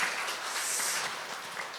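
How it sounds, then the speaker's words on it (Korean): Audience applause welcoming a guest at an anniversary book concert in a welfare center hall, a steady wash of many hands clapping throughout the short moment. "박수로 다시 한번 큰 환영해 주시면 좋겠습니다"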